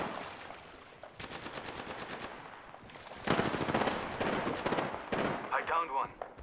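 Gunfire in the video game Apex Legends, sustained rapid automatic bursts with heavier booming shots, loud and close, with a voice talking among the shots.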